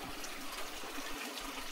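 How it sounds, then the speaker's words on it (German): Water pouring steadily from a pipe at the Niers spring, where pumped groundwater replaces the former natural source: a close, continuous splashing rush with no voices. "Ein Rohr wird hierher geführt und da kommt Wasser raus."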